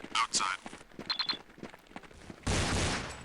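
Pistol gunfire in the early-2000s shooter game Counter-Strike, a single loud, broadband blast near the end that rings out briefly, after someone talks over quieter game sounds.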